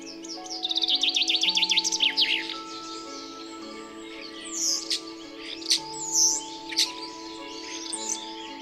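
Forest birds in early spring sing loudly and close by: rapid repeated chirping trills at the start, then varied whistled phrases and calls from several birds overlapping, with a faint steady tone running underneath and no voices.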